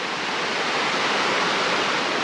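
Creek water rushing beside a forest hiking trail, a steady, loud broadband wash with no pauses, close by and alone.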